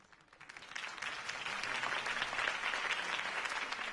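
Sustained crowd applause in a video game, a dense wash of many hands clapping that swells in the first second and holds steady and loud throughout.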